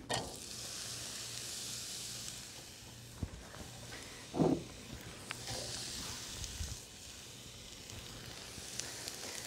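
Curried zucchini fritters frying in a touch of oil in a pan, a steady soft hiss of sizzling close by, with a louder burst of spatter midway and occasional light clatter of a utensil.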